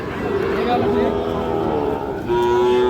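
A Sahiwal breed bull calf at a busy cattle market gives a long, loud, sustained moo close by, with a second moo starting near the end over crowd chatter.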